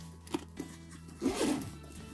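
A zipper on an ita bag's inner compartment is pulled open in a couple of short, scratchy strokes, close and quiet, with no voices.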